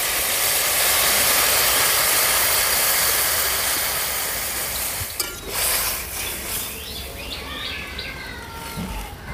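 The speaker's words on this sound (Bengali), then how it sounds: "এবারে আমি পরিমাণ মতো জল দিয়ে দেবো।" Water poured into a hot pan of fried pumpkin greens and potato hisses and sizzles loudly in a steady rush, then the sizzle fades to a quieter bubbling with light clatter.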